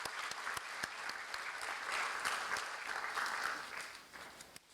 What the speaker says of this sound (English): another round of applause for a brilliant lecture